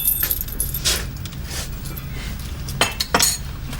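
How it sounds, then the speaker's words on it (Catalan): A bunch of keys jangles and clinks as it is handed from one person to another, several short metallic rattles over a faint room hum, close and moderately loud. "Max, et deixo les claus aquí"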